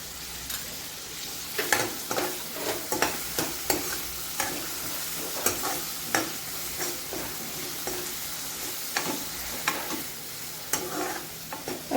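Onion and tomato cook with a pinch of salt in a pan for a French beans dish, a low sizzle under repeated spoon scrapes and taps that come every second or so.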